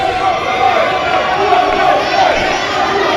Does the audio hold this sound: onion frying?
no